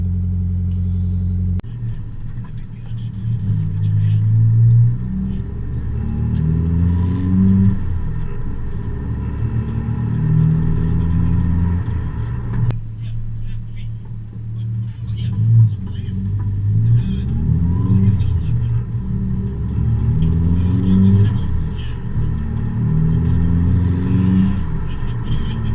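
A Nissan 240SX with a swapped SR20DET engine and Haltech management idles while warming up, a steady low rumble with periodic rising and falling rev blips, nearby and moderately loud, with a voice talking over it.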